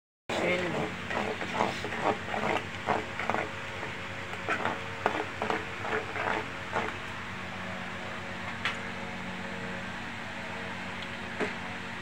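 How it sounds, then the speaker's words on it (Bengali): Spices stir-fried in a pan for a mixed fish curry, with a spatula scraping and clacking in quick irregular strokes over a constant low sizzle, close up, easing into a steadier fry with occasional sharp knocks. "মশলা কষিয়ে নেব।"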